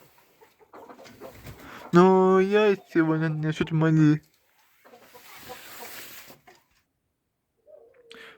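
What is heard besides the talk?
young hens clucking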